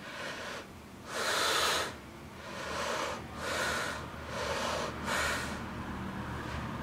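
Several loud, hissy breaths through an N95 face mask, five airy bursts in a slow, uneven rhythm, close up with no talking.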